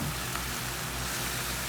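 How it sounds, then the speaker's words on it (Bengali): Onion, garlic and green chilies frying in hot oil, giving a steady, close, even sizzle and crackle with no voices. "এখন রসুনটাও দিয়ে দিব, একসাথে ভেজে নিব।"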